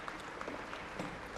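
Audience applause at the Wabanaki Nations' State of the Tribes address, soft and fairly distant steady clapping from a crowd, faint in level with no voices over it.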